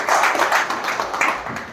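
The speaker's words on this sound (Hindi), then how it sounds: "तो एक बार पुनः जोरदार तालियां चाहेंगे" An audience applauds, a dense, steady wash of many hands clapping at close range, loud throughout without pause.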